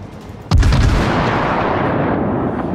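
A single heavy naval gun salvo from a light cruiser (the Cleveland) in World of Warships booms loudly, then a long rumbling tail rolls on and slowly fades.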